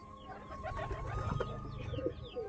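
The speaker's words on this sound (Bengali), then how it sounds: "পায়রাগুলো আছে" Pigeons cooing inside a loft, several soft throaty coos close by over a low murmuring background.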